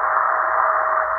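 A steady WWV time signal tone received on a portable shortwave radio, a CountyComm GP-7/SSB or Tecsun PL-368, in AM mode, holding an even pitch under a light hiss of static with no speech.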